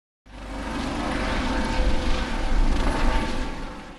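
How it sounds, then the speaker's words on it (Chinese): Rescue helicopter flying overhead in a quake-hit mountain gorge at Taroko National Park, a steady distant engine and rotor drone that fades in and holds for several seconds, with no voices. "头顶上空勤总队直升机来回飞跃"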